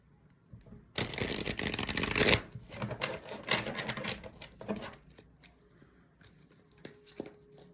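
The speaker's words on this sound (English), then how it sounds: "I'm just trying to mix the cards in here that I put on top." Oracle cards shuffled by hand, a dense burst of riffling patter for about a second followed by softer intermittent slides and taps as the deck is mixed, close and quiet.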